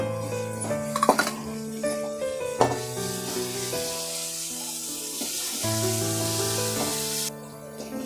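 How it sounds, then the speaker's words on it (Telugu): Curry leaves frying in hot oil for lemon rice, giving a soft, steady sizzle with a few clinks of utensil against pan, and tonal background music underneath. "ఇప్పుడు కరివేపాకు వేగింది"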